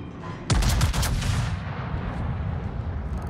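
Battleship main guns fire in the World of Warships naval combat game, a sudden heavy booming salvo with rolling, crackling blasts that decay into a sustained rumble, loud and close with no talk.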